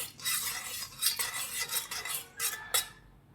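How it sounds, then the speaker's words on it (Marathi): A spoon stirs and scrapes rice for vegetable pulao in a pan, with ghee and salt, in a series of close, sharp scraping strokes and clinks, without talk. "तर हे सगळं असं हलवून घेते."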